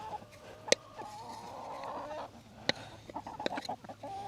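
Chickens cluck and murmur softly nearby, with a couple of sharp clicks and scattered short calls, fairly faint and without talk.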